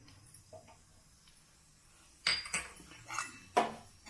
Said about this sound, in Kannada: ಎಣ್ಣೆ ಕಾದಿದೆ. ಜೀರಿಗೆ ಸಾಸಿವೆ ಹಾಕ್ತಾಯಿದ್ದೀನಿ